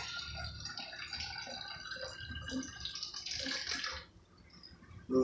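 Water is poured into a container for a home science experiment with vinegar, a bubbling, trickling fill that runs for about four seconds before dropping away, ending with a brief knock.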